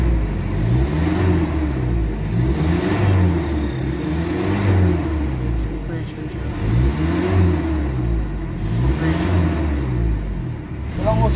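A Mitsubishi Adventure engine with throttle delay, vibration, low power and loss of compression is revved repeatedly. Loud, close surges rise and fall roughly every two seconds over a steady idle rumble.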